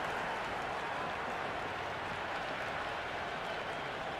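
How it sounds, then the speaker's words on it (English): A stadium crowd roars in the Cricket 26 video game during an India versus South Africa one-day international, a dense, sustained wash of cheering and applause at moderate level, unbroken and with no voices in front. "The crowd is electric right now."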